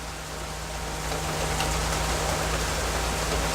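Heavy rain pours down outdoors, a dense steady hiss of drops that swells louder partway through and holds, close and enveloping with no voices over it.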